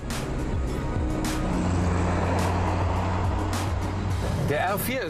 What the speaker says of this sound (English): This time, we'll be driving the legendary Renault 4.